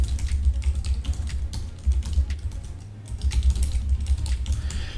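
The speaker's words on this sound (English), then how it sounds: "All you have to do is type out your name, the year that you'd like to register for," Steady typing on a computer keyboard, close and moderately quiet, with quick irregular key clicks continuing throughout and no voices.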